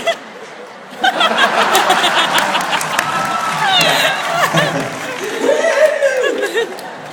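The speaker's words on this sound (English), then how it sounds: "Yes, someone started to clap." An audience at a live comedy show claps and laughs, with scattered applause and chuckles rising after a moment, mixed with a comedian talking over the crowd.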